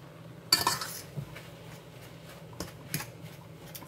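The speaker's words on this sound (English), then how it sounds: "I'm just going to use my fork to mash my potatoes up." A fork mashing boiled potatoes with butter and fresh garlic: one sharp metallic clink against the dish, then lighter scattered taps and soft squashing scrapes, close and alone.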